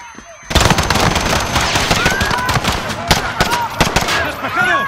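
Gunfire in the Call of Duty Modern Warfare video game during a police raid at Piccadilly Circus, London, with loud, continuous rapid bursts of automatic fire, sharp individual shots, and shouting voices mixed in.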